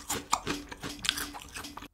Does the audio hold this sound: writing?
no